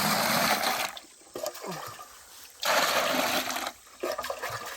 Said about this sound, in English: Beautiful spring water.